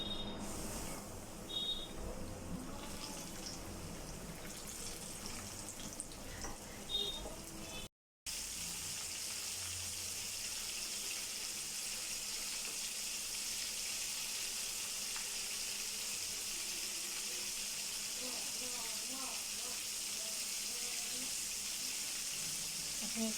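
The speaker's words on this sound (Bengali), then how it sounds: "আমি তেলটা গরম করে এখন আমি চিকেনগুলো দিয়ে দিব।" Chicken pieces dropped into hot oil in a wok over high heat give a steady, broad sizzle and hiss that runs unbroken through most of the stretch after a short gap, with faint background speech.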